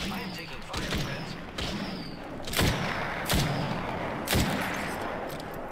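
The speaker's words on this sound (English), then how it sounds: "I am taking fire, friends." Gunfire in a firefight from the video game Apex Legends, with several sharp reports spaced about a second apart rising over a dense, noisy battle backdrop.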